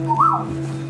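A person gives one short rising-and-falling whistle to call a well-trained dog indoors. The whistle is brief and clear over a steady low background hum.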